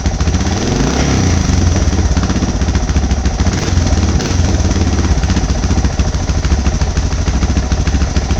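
Suzuki DR650 motorcycle engine with performance mods running close and loud, a rapid rough thumping idle that stays fairly steady without surging and fills the whole stretch.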